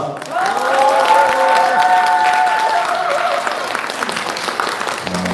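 Audience applause at the opening of a lecture event for a National Assembly member, a sustained wash of clapping with tonal music or a voice-like melodic line running over it for the first few seconds, then thinning toward the end.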